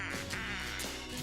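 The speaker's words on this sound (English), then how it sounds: "Did you just quack like a duck?" A duck quacks in a radio advertisement for a plumbing and water heater service, a few nasal quacks played over a dense broadcast backdrop at moderate loudness.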